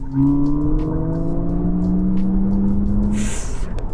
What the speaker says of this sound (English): I'll just give it a little bit more acceleration.